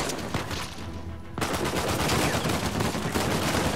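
Sustained machine gun fire in Uncharted 4, a loud continuous rattle of rapid shots that pauses briefly before resuming heavier and unbroken to the end.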